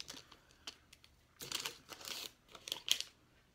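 Scissors snip through a flattened paper cupcake liner for a fish craft, a few soft crinkly cuts from about 1.4 to 3.1 seconds, close and quiet, with light paper handling before.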